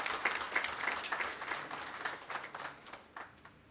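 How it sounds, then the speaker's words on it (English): An audience applauds at a farewell function for an executive director: a soft, quiet spatter of claps that thins out and fades toward the end. "A round of applause to those two gentlemen"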